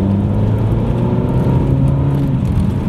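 A Ferrari California T accelerates hard away from sand, its engine a loud, dense rising roar with a steady low growl, heard close from inside the car with no talk.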